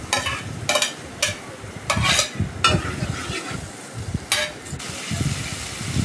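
Potatoes sautéing in a pan for a prawn curry sizzle steadily as a spoon scrapes and stirs, sharp bursts of stirring recurring every second or so over the constant frying hiss.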